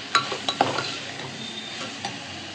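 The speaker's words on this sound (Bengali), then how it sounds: "এবার এটাকে ভালো করে একটু নেড়ে নেবো।" Chana dal with sugar being stirred in a metal pan, giving a few sharp spoon clinks and scrapes early on over a soft, steady background hiss, with no talking.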